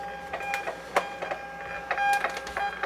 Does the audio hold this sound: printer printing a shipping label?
yes